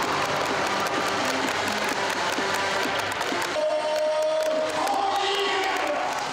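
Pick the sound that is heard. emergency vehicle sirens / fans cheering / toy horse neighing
fans cheering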